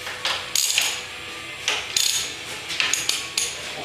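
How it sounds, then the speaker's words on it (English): Ratchet loosening the fork top caps on a Honda VTX 1300 motorcycle, producing close, loud bursts of ratcheting clicks in several short strokes. "we're going to go ahead and loosen the top caps on here"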